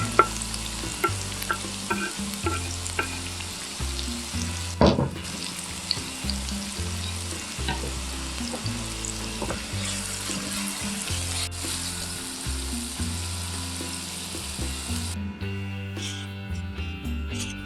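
Chopped vegetables sizzle and fry in oil in a pan close up, making a steady crackling hiss while a utensil stirs and scrapes through them again and again.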